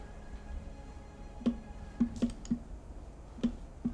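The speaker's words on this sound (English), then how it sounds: "I also wish I could get a quieter mouse" A computer mouse clicks sharply up close during a strategy game, with about seven crisp clicks in an irregular sequence over quiet background hum.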